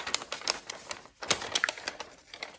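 Scissors snipping glassine paper at an angle produce a quick series of crisp, close clicks and crackles, with a brief pause midway.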